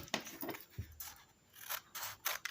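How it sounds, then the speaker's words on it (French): Scissors snip through a paper sewing pattern, a series of close, crisp cutting strokes with soft rustling between them, fairly quiet and without talk. "je vais maintenant couper"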